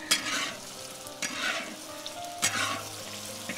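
Tofu frying in a large wok, a steady loud sizzle with stirring and scraping bursts about every second, close up with no talking.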